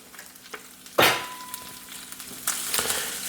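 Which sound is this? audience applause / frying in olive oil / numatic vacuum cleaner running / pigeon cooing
frying in olive oil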